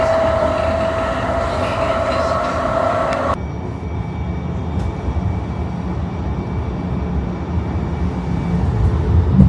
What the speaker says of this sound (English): Got the new one too. Brand new train.